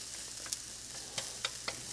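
Onions browning in a pan for a Keralan-style thoran with collard greens, giving a steady soft sizzle with a few faint clicks of stirring, heard alone at low level.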